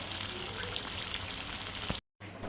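Stuffed brinjal curry simmering on low gas, a steady soft bubbling hiss with faint pops, close and even, broken by a brief silent gap near the end.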